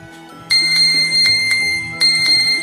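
A phone, triggered by a Mi Band 5 fitness band's find-device function, plays a bright chiming melody in close, loud repeated bell-like notes over a soft tonal backing.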